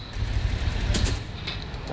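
A train locomotive in the video game Hello Neighbor Alpha 4 rumbles low and steadily throughout, with a brief brighter rattling burst near the middle, heard alone.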